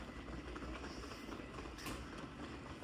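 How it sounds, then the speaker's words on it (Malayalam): Steady rumbling rail noise with a continuous low roar as a train arrives along the tracks nearby at a station in Germany. "കയറുന്ന ട്രെയിൻ എത്തിയിട്ടുണ്ട്"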